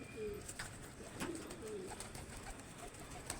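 Pigeons coo softly inside a pigeon house, a few low rounded calls spaced across a steady background hiss, with no talking.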